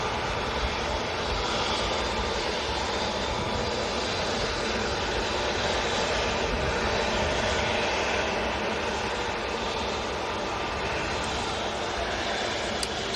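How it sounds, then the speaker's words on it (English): Airbus A320neo airliner bound for Marrakesh at Manchester Airport, a steady broadband engine roar held at a moderate, fairly distant level without letup. "A320 Neo."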